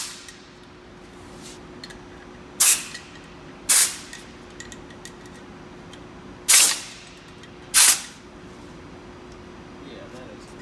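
Compressed air blasts clean out the bolt holes of a rebuilt C5 Corvette engine block in four short, loud, sharp hisses spread across the stretch, with quieter background between them.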